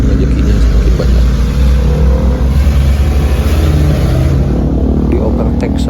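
A 100 hp diesel engine of a rusty 1996 Mitsubishi Colt ELF minibus drones loudly and steadily from inside the cabin while riding, with rumble and road noise throughout.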